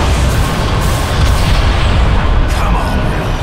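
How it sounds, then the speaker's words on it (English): Forward ship cannons in the game Bulletstorm fire as a dense, loud barrage of booms and blasts, rumbling continuously at close range. "Arm forward cannons."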